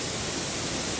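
A waterfall pours down in the rain, a dense, loud, continuous rushing roar with no talk.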